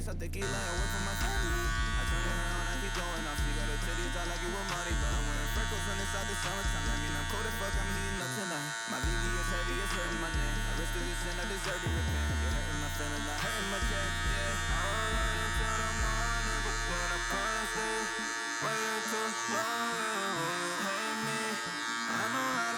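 A hair clipper set to a half, three-quarter lever position buzzes steadily and close during a low fade touch-up at a barber's chair. The motor hum stops briefly twice.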